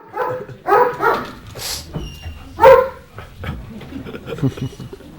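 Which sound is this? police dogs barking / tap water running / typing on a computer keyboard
police dogs barking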